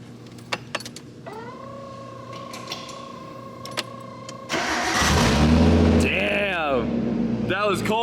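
Nissan Skyline engine cranking and catching on a cold start, then revving hard with rising and falling bursts, loud and close, preceded by scattered clicks and shop noise.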